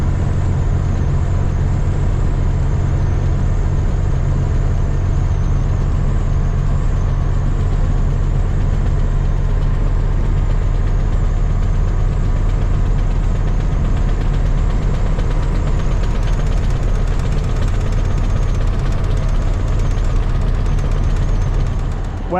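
An old Transtar truck engine idles steadily, a heavy low rumble with a constant throb and faint knocking texture, continuous and close for the whole stretch with no voices.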